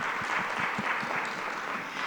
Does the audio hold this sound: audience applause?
yes